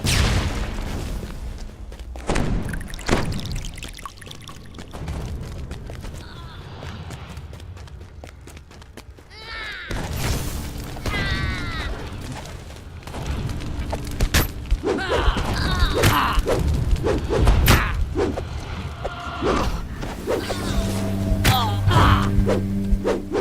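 Mage fire cannon blasts in a fantasy video game land as several heavy booming bursts spread across the passage, mixed with clattering, trotting game effects and busy background noise.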